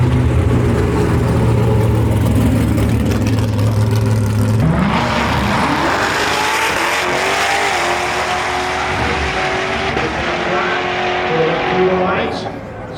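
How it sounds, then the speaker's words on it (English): A 7th generation Corvette at a drag strip launches hard, its engine roaring up through the gears with a rising pitch, loud and close, then fading slightly as it pulls away down the track. "This is a 7th generation Corvette."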